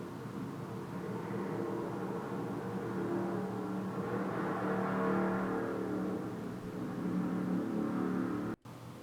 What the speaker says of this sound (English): Kind of figured that was going to be a car.